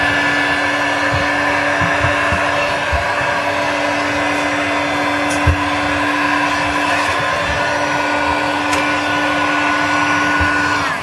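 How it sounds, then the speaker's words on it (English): A heat gun set to level 2 blows a steady, loud whooshing hum while heating carved polystyrene wall panels, the airflow continuous for the whole stretch with faint knocks underneath and no talking. "we're going to take the heat gun, turn it on to 2, and we're just going to heat this all up."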